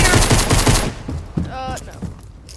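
A heavy shotgun in a video game fires a quick burst of several loud, closely spaced blasts at the start, followed by quieter thuds and a brief voice.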